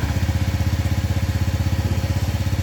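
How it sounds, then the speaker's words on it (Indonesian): A Honda fuel-injected motorcycle engine idles at steady stationary revs, a loud, even, rapid putter of firing pulses close by, with no talking. "sekarang kita tes hidupin"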